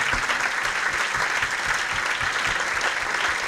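A cinema audience applauds the cast and crew of the film Montanha called up onto the stage, a thick, continuous round of clapping at even loudness with a few distinct near claps showing through.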